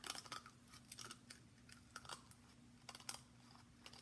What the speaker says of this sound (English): these scissors are kind of breaking the edges